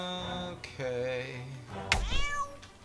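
A cartoon cat in South Park: The Stick of Truth lets out drawn-out, wavering meows, one long cry followed by a sharper, rising yowl, close and clear.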